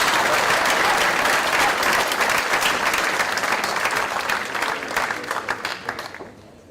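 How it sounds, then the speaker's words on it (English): Audience at a high school athletic awards night claps for the fall coaches, dense applause that holds steady and then thins and fades away toward the end. "a big round of applause to all of our fall coaches"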